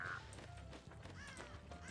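Crows cawing in the Dead by Daylight video game, a few harsh, faint caws over a low ambient game background, with no speech.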